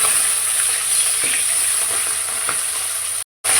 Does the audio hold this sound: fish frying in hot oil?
yes